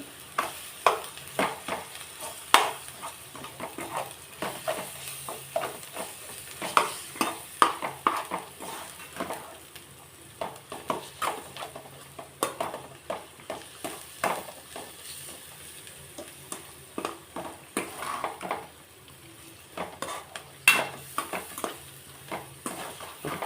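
Ginger fries on a low flame and is stirred with a utensil, giving a soft, gentle sizzle under irregular scraping and clinking against the pan, near and fairly quiet, with no talking.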